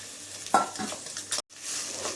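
Soaked moong dal dry-roasted in a pan for a pongal, stirred with a spoon: soft scraping strokes and light rattling of grains, a couple of sharper spoon scrapes against the pan, close and fairly quiet.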